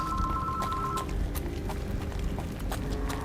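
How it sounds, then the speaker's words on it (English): A landline telephone rings with a steady electronic tone for about a second and again briefly near the end, layered over continuous video game sounds with clip-clopping hoofbeats. "And my phone is ringing. My landline phone."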